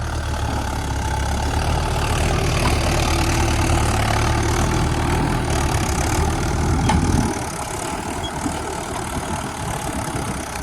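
A tractor engine runs steadily at close range while ploughing a peanut field, with a deep, continuous rumble that drops in heaviness and eases to a lighter drone around seven seconds in.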